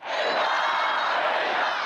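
Hundreds of party faithful surrounding Iran's president roar in anger at the United States, a dense, loud wall of massed shouting that holds steady throughout.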